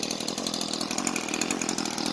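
A small two-stroke Echo SRM 2620 X-series string trimmer engine runs steadily at idle with spark-plug test leads attached, a continuous buzzy rasp close by with no talking.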